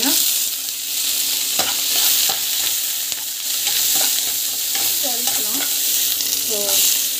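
Green chilies, curry leaves and onion sizzle in hot oil while being stirred, a continuous close frying hiss broken by repeated scraping strokes of the spoon across the pan.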